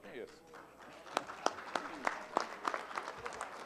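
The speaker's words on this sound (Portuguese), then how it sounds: "Vamos aquecer as nossas palmas" Audience applause at a ceremony, a short burst of scattered hand claps with distinct individual claps standing out, under a spoken voice.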